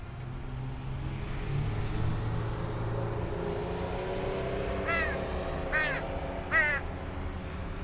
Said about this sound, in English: I've been feeding a crow.